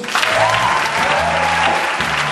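A church congregation claps and cheers in a dense, loud burst of applause filling the room, with faint voices mixed in.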